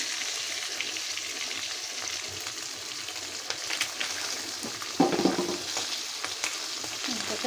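Chanda fish frying until crispy in hot oil, a close, steady crackling sizzle with occasional louder pops and stirring scrapes around the pan, no voices.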